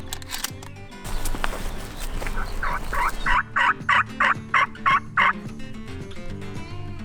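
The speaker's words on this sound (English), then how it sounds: "Three steps off the four-wheeler and birds are gobbling." A rapid series of about eight bursts rings out in quick rhythm, a wild Rio turkey's gobble, fairly close, after some rustling and handling noise, in southwest Texas.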